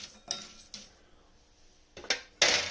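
A spoon clinks and scrapes in a bowl while thandai ingredients such as almonds and whole coriander are mixed, giving a few sharp metallic knocks with quieter stirring in between.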